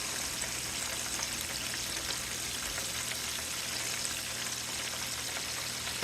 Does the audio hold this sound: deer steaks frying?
yes